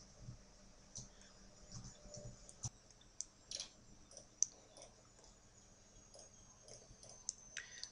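Soft, sparse computer mouse clicks, single taps at irregular intervals against a quiet background, close and faint, while working in dental implant planning software.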